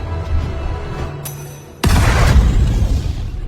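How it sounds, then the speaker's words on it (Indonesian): A grenade blast in an action film: after a quiet stretch with a brief high whine, a sudden loud boom bursts in and rolls on as a dense, sustained roar of debris and rumble. "Ray lalu menangkap granat berikutnya dan membiarkan dirinya meledak bersama Herting."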